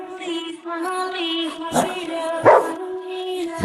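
A voice imitating a dog's barking in an animated drama, several yelping woof-like calls in a row, close and loud, with a couple of sharper bursts.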